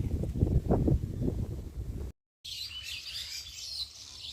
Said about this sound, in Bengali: কি সুন্দর পাখির আওয়াজ